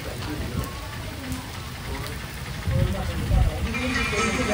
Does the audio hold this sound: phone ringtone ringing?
no